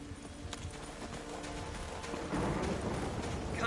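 Hooves clip-clop from a horse in The Witcher 3 on PS5, a steady walking rhythm under faint game ambience, moderately quiet with no talk.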